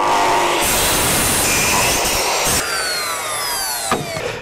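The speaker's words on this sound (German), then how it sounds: "und dann absägen." A loud, steady power saw cuts through a Douglas fir deck board with a continuous buzzing roar, and the tone shifts slightly as the blade moves through the board.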